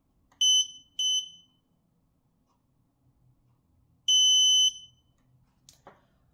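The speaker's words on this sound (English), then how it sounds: "Also, the sound of buzzer differs from where the process is verified or there is an error." Buzzer on a fingerprint sensor module gives two short high beeps in quick succession, then after a pause one longer beep, clear and close in an otherwise quiet room with faint handling noise.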